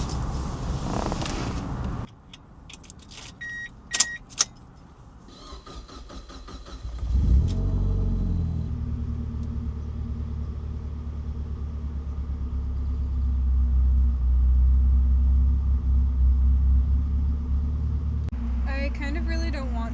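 A Mazda Miata engine starts and settles into a steady, close, loud idle rumble that swells slightly mid-way, after a stretch of clicks and handling noises, with a brief voice at the start.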